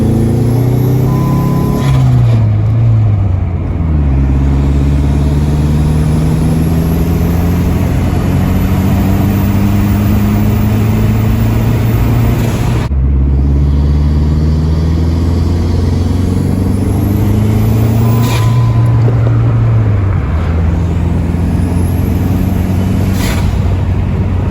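A Dodge SRT4 fitted with new spark plugs accelerates hard through repeated rising engine pulls, with a pause and gear change partway, the engine loud and continuous throughout with no talking.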